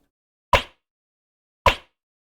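An unprocessed clap sample fires twice about a second apart, each a sharp, dry, broadband smack with a very short decay, separated by complete silence.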